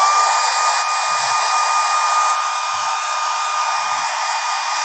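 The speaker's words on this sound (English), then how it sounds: "It dries pretty quick just using the blow dryer." A blow dryer roars steadily at close range, drying metal reactive paint on a woodturning project; the whine holds constant and loud for the whole stretch with no voices.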